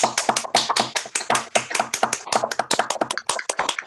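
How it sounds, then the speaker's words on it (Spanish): Applause at a Spanish-language talk on anxiety during COVID-19: a dense run of quick, crisp hand claps from a modest group, steady for a few seconds with sharp individual slaps standing out. "Le damos un aplauso muy grande a Denise,"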